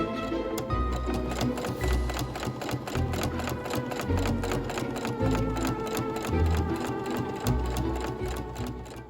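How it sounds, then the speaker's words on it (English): A sewing machine stitches the hem of a cotton-style pumpkin petticoat, a fast steady mechanical chatter of needle strokes with short pauses and restarts, close and clear without speech. "I chose to machine stitch the back half of the petticoat"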